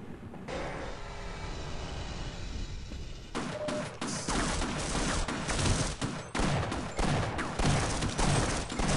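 Weapon fire in the video game Half-Life during the On A Rail chapter: a quieter rumbling stretch gives way to rapid, loud bursts of gunshots repeating densely over the final seconds.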